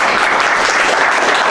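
Audience at a talk on algorithmic songwriting applauding Dr. Ackerman, a loud, dense, unbroken roar of many hands clapping together with no gaps or voices.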